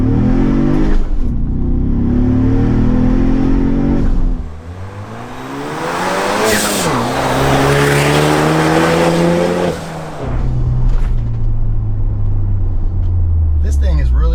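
A Ford Bronco fitted with an Xforce Varex valved catback exhaust revs loud and close, its engine pitch sweeping up and falling back through several climbs with short dips between, while a person talks over it.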